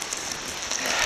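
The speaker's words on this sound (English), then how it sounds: "It's raining a bit, not really rain, it's more run down from the trees from the snow." Meltwater dripping and pattering from snow-covered trees near Eaton Lake, British Columbia, in March, a dense steady hiss of drops like light rain falling close by.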